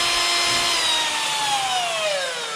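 A Bosch GSB 120 Li cordless drill runs alone at full speed, a loud steady whine whose pitch slowly sags as the motor winds down.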